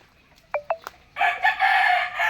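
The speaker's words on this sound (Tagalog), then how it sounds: "marami din siyang manok" Hens and a rooster on a small farm under a mango tree in San Carlos, Pangasinan: a few short, sharp clucks ring out near the mic, then a sustained rooster crow carries through the rest.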